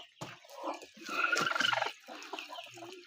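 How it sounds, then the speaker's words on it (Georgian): Hens clucking in a poultry shed, a close, busy flurry of overlapping clucks and murmurs that swells in the middle and then settles into softer, scattered calls. "აქაც კრუხებია."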